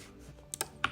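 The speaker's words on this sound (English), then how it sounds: "For this tutorial, let me just type" A password being typed on a Mac computer keyboard, heard as a few distinct close keystrokes clustered in the second half over quiet room tone, with no voices.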